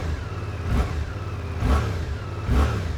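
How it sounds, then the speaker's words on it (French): A Suzuki GSX-8S twin-cylinder motorcycle engine idles with three gentle throttle blips, about a second apart, each a short rise and fall in revs over a steady low rumble, heard up close with no talking. "on a un son de bicylindre assez soft, assez neutre"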